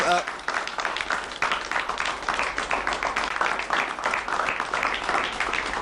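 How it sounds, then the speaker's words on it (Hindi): Loud applause from an audience at an abacus demonstration event in Delhi, dense rapid clapping that continues steadily throughout, with faint voices mixed in beneath. "वाकई बहुत जोरदार तालियां होनी चाहिए"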